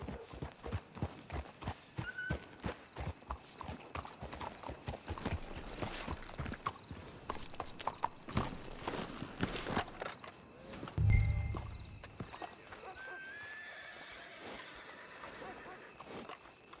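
Horses walking with rhythmic hoof clip-clops, sometimes under talking voices, then a whinny and a sharp bump near the end as the hooves fade.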